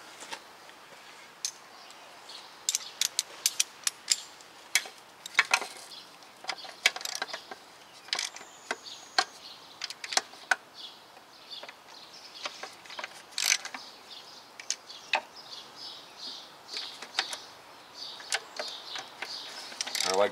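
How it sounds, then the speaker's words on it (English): Ratchet tightening bolts on a Toyota Corolla starter motor during a no-crank starter replacement, heard as bursts of quick clicking in uneven runs, close and moderately loud, with no talk. "go ahead and tighten everything down to spec"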